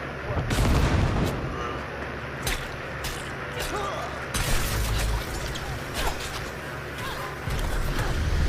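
Gunfire in a video game sounds as a dense, loud run of booming shots and bangs over a constant roar of game noise, with sharp cracks recurring through the stretch.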